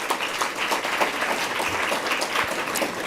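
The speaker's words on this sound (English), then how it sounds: "We can clap." Audience applause at an indoor ceremony honoring peace fellows, a dense steady wash of many hands clapping that holds evenly for the whole stretch with no voices over it.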